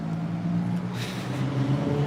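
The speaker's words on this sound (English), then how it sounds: "There's just a loud truck over here right as the whitey drives by me." A loud truck drives past nearby with a rough, steady engine drone that swells slightly as it passes, heard outdoors on a street.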